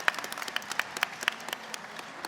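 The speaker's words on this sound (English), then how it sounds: "Round of applause, please." A small group claps for a correct answer at a Witcher-themed trivia game, sparse distinct handclaps in an uneven rhythm, close and fairly light, tapering off after about two seconds.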